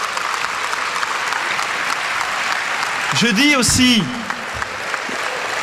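Large indoor audience applauding together at a New Year's gathering for public-sector staff, a steady sustained clapping wash under a brief spoken word, with a short burst of other sound near the end.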